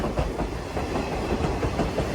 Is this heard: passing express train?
yes